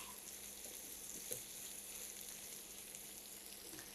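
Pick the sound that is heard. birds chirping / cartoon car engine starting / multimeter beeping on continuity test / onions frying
onions frying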